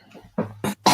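A man coughs several times in quick succession, three short harsh bursts close to the microphone after a moment of quieter throat noise.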